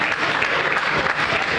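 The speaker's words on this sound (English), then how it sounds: "Let's give him a round of applause." Applause from the audience at a legislative networking reception, a dense steady patter of many hands clapping throughout without a break, with faint voices mixed in underneath.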